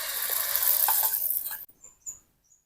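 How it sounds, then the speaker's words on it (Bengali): An egg and lentil batter frying in mustard oil: a strong, close hissing sizzle for about a second and a half, then a sudden cut to near silence with a few faint crackles and ticks. "এবার আমি ভেজে নেব।"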